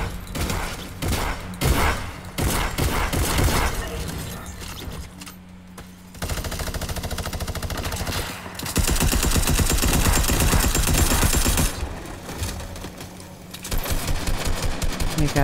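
Gunfire in Fortnite: rapid automatic bursts and fusillades that pause briefly and resume, loud and close, with a dense mechanical crackle and no talk.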